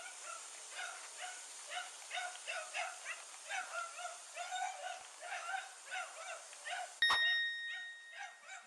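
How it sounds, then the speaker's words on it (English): A dog barks repeatedly in a steady series of muffled, somewhat distant barks, followed by a sharp click and a brief chime-like tone near the end. "That dog is just not happy."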